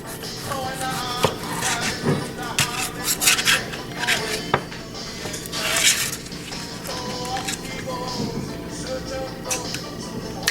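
A tomato being diced with a knife on a cutting board, a run of quick, irregular chopping taps and scrapes at close range, with no one speaking.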